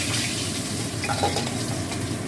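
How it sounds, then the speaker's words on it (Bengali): Fish pieces frying in hot oil in a pan give a steady, close sizzle that holds unbroken throughout, with faint stirring or utensil contact and no voices. "এরকম করে আমি বাকি মাছগুলো সব ভেজে নেবো"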